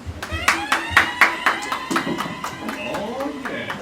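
Applause at a company event: a crowd claps in a burst of sharp, overlapping hand claps that settles into steadier clapping, with voices murmuring underneath.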